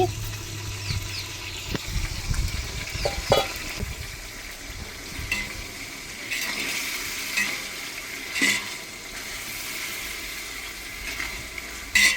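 Onions and tomatoes fry in a large pot for chicken gravy, giving a steady soft sizzle. A spoon stirs with occasional scraping clinks, and there is no clear talk.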